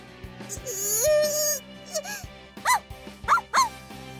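Dog barking in the visual novel game A Sky Full of Stars, a drawn-out whine followed by several sharp, loud barks close up, set over soft background music.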